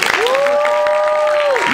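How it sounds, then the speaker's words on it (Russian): Audience applause at a student contest, a steady wash of clapping lasting the whole moment while a sustained whistle or tone rings over it. "Он без аплодисментов не выходит."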